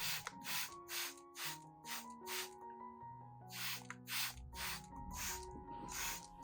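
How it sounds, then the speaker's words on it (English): A hand spray bottle misting a nutrient solution onto a plant's leaves, stem and roots, about ten short hissing bursts in a steady rhythm, close and clear over a faint tonal background. "When spraying, you should spray evenly onto the leaves, stem, and even exposed roots so the plant can absorb nutrients more effectively."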